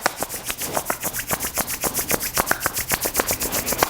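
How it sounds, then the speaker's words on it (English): Palms rubbed briskly together to warm them, a close, even back-and-forth swishing in a quick regular rhythm of about five strokes a second, with no talk. "Rubbing our palms together, get them nice and warm."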